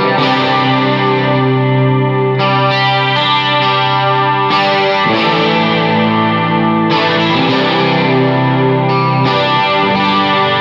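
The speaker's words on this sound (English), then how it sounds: "I drowned that sound with a bunch of reverb as well. So this was roughly my rhythm guitar sound" A Hughes & Kettner Black Spirit 200 floor amp plays sustained, chorused rhythm guitar chords drowned in reverb, loud and continuous with chord changes every couple of seconds.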